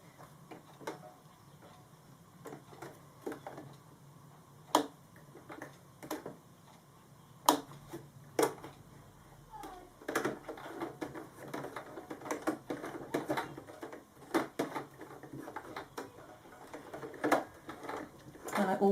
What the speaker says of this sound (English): And I'll back stitch this section just to make sure that everything is as I want it to be.